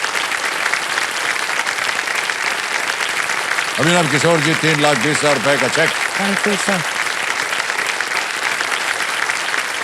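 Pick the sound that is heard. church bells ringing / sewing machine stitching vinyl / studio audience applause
studio audience applause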